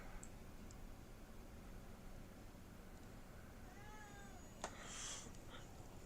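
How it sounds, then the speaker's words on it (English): A house cat yowls from a room where someone is live trading futures, with a few drawn-out wavering cries and a sharp click over steady background hiss, at moderate distance. "Cat's yelling at me again."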